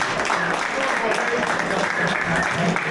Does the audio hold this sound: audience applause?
yes